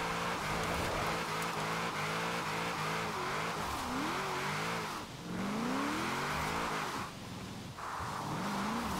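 Car drifting with the handbrake in Forza Horizon 4: a loud, steady engine roar rises and falls in pitch with revving as tires squeal and skid through slides, with brief dips in level.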